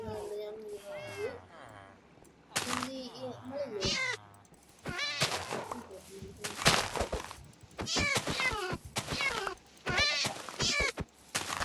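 A cat meows repeatedly in Minecraft survival mode, several short calls spread across the scene, mixed with a person talking over the game sounds.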